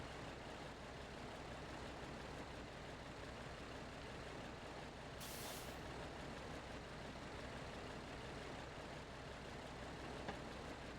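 A Mack truck in the SnowRunner video game strains through deep snow, its engine giving a steady, loud, continuous drone with no talk over it.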